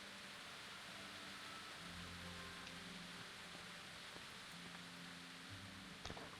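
Rain hisses constantly in the medieval video game Kingdom Come: Deliverance, with a low rumble that rolls beneath it like distant thunder and a brief sharp knock near the end.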